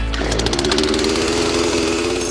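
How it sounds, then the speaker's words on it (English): A chainsaw runs steadily at close range, its engine holding a continuous buzzing drone for the whole brief moment with no talking. "you can fire up your trusty chainsaw"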